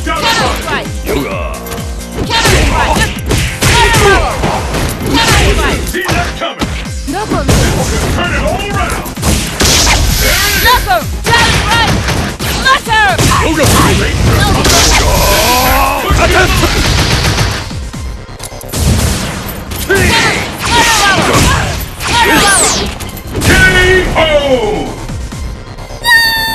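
Dhalsim's Yoga Fire attacks in Super Street Fighter IV Arcade Edition, fighting Cammy: loud, dense bursts of fiery impact effects and hits throughout, mixed with shouted character voices and crowd-like game noise.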